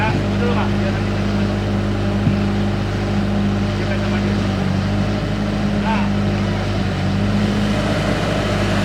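The engine of a mobile vehicle-testing truck in Malaka, Timor, drones steadily and loudly with a constant low hum and no pauses, as if heard from close by.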